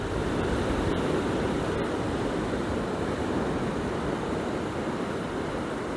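Waves washing onto the shore at Drains Bay, a steady broadband surf roar with wind, loud and continuous throughout with no clear breaks between swells.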